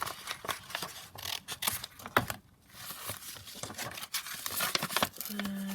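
Background paper being cut down by hand at a crafting table while making ephemera, with a run of crisp snipping and crinkling paper sounds, close and fairly steady, with a short pause partway through.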